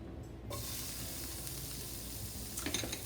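Chopped onion hitting preheated vegetable oil in a skillet, giving a steady broad sizzle that starts abruptly after a brief quiet moment and holds loud and close throughout, with a few louder crackles near the end.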